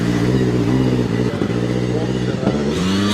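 A classic car's V6 engine, like those used in Dinos, warms up at a close, loud, steady idle with a slight rhythmic throb and small surges.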